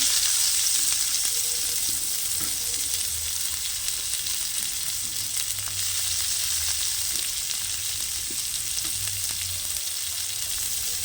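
Chopped onion and crushed garlic sizzle in hot oil tempered with black cumin seeds. The hiss is steady, close and continuous, with faint stirring underneath and no voices.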